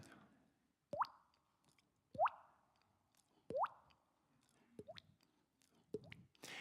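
A voice imitates water dripping with five hollow, rising bloops spaced about a second apart. The sounds are close and clear, with no other sound around them.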